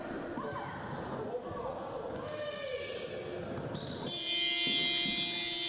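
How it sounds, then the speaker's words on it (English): A full-time buzzer sounds at a women's futsal match, a long loud electronic tone coming in near the end over crowd noise, squeaking shoes and a commentator talking. "Full time then, the buzzer sounds to signal"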